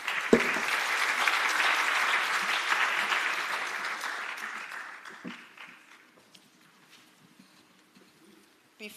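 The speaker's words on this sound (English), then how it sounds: "A last round of applause for our speakers." Conference audience applauding its speakers at a higher education conference on the future of the university: dense, loud clapping from a crowd that holds steady for about five seconds, then thins into scattered claps and fades to near silence.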